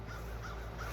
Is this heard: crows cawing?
yes